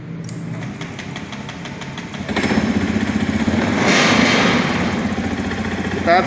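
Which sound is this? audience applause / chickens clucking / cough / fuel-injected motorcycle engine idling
fuel-injected motorcycle engine idling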